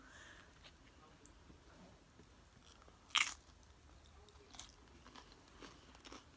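Tortilla chips loaded with nacho toppings crunched in a quiet close-up bite: one sharp, loud crunch in the middle, followed by softer chewing crackles and small mouth sounds.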